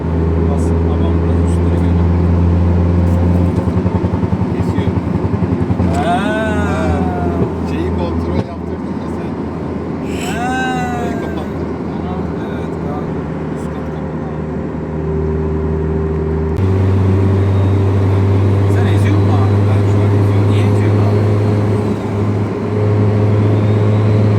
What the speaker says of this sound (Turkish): Olduğun yerde gaz bas abi.